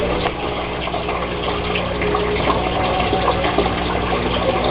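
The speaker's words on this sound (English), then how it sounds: "here it is, the siphoning" Water drains through the siphon of an aquaponics grow bed as a steady, dense rushing and gurgling wash, close and continuous with no pauses.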